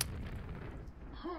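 Grenade explosions in the Quake video game, a heavy continuous rumbling blast that fills the moment, with a sharp attack at the start and a brief ringing tone near the end.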